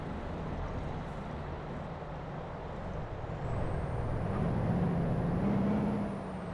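A heavy truck hauling an industrial cable reel in Euro Truck Simulator 2 drones with a low, steady engine rumble that swells slightly as it accelerates, with a thin high whine rising above it.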